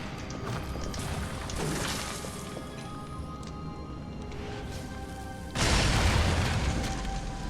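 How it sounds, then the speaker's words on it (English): A sticky bomb blows up in the video game Darksiders, a loud broadband boom with crashing debris that swells sharply near the end and rumbles on for a couple of seconds. "Grab and throw the sticky bomb into objects and enemies before it detonates. Strike it for an instant explosion."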